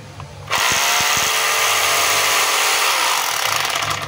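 DeWalt D25133 rotary hammer in chipping mode starts up after a few handling knocks, then runs with a loud, steady buzzing hammer action at close range without pause.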